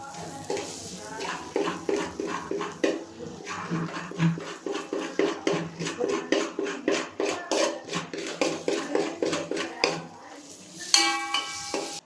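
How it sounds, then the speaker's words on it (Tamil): Biryani masala with salt being stirred in a pot, a ladle scraping and knocking against the metal in a steady repeated rhythm, close and fairly loud, with a brief pause near the end. "எல்லாத்தையும் வந்து நல்லா கிண்டி விடுவோம்."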